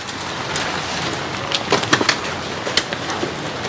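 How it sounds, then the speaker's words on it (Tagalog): Steady rain falls in an outdoor setting, a dense close hiss with a few louder splashes and drips near the middle. "Inabot tayo ng ulan."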